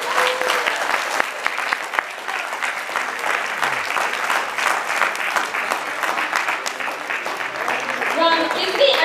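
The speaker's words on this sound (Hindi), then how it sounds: "एक बार जोरदार तालियां।" Loud, sustained applause from an audience at a Diwali function at a Hindu Sabha temple, honoring children after a poem recital, with dense steady clapping continuing throughout and faint voices underneath.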